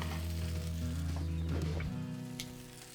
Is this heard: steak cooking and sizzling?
yes